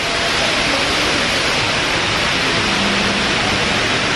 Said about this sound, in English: I could literally hear the water.